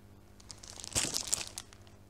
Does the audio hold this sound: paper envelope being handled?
yes